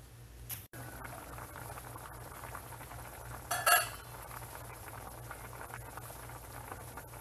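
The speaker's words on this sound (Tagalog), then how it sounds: "Hayaan lang natin to siya hanggang sa kumulo, hanggang sa maluto yung ating elbow macaroni." Elbow macaroni boils in water for chicken sopas: a quiet, steady bubbling simmer with no talk, broken once near the middle by a brief metallic clink of a utensil against the pot.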